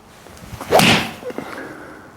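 Golf ball struck with a PING i240 iron, a single sharp swishing crack that rises and fades within about half a second, heard outdoors with faint background noise afterward.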